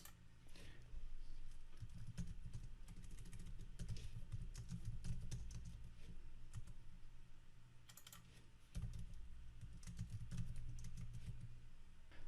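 Cabin names being typed on a computer keyboard, a steady run of quiet, close key clicks that pauses briefly near the middle before resuming, with no talking.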